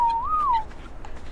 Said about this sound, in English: even if I do whistle stop all